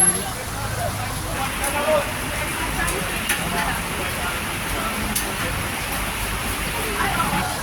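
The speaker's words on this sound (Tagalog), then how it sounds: "Ayan na, mas malakas na yung ulan." Heavy rain in Salcedo Park hisses and patters throughout, a dense even wash of drops on surfaces, with faint voices in the background.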